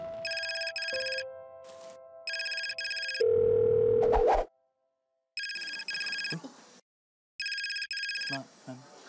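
Telephone ringing in a home, a bright electronic ring in repeated double bursts with pauses between, loud and near, with brief talk and other sounds between the rings.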